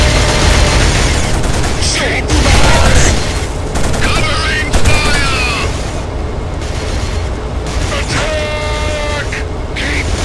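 Sustained bursts of gunfire and heavy booms rattle through a misty waterside firefight in the PS2 game Killzone, loud and dense, with shouted voices over the battle.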